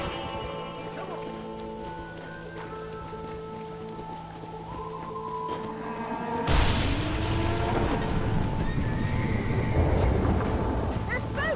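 Stampeding horses in Red Dead Redemption, a sudden rush of pounding hooves and rumbling noise that swells in partway through, over music and game ambience.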